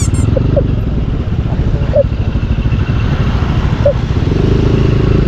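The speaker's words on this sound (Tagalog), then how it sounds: "Ay, motor ngayon." A motorcycle passes by on a road, a loud close rumbling engine throughout, with brief chirps over the top and no clear speech.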